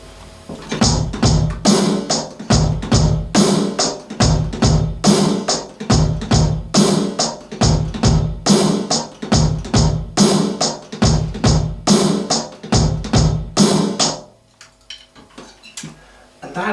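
A drum kit plays the simple chorus beat of a rock song, with bass drum and snare hits in a steady repeating pattern, loud and close, stopping near the end.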